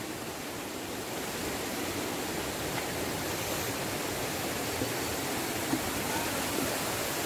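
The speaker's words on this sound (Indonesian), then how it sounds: "saya melewati air terjun kecil" A small waterfall beside the slippery descending trail to Tumpak Sewu in Java pours in a steady, broadband rush, constant and fairly close for the whole stretch, with no voices over it.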